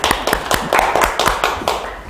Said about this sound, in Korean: 자, 박수 한번 칩시다.